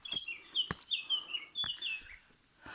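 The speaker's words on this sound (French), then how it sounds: "On entend les oiseaux même." Several small birds chirp and warble near a hillside path above Conques, with bright repeated phrases and sharp clicks coming in quick bursts and gaps, and no voices.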